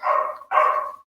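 Two quick barks from a dog in the video game Monster Care Squad, sharp and close, following one right after the other with no other sound.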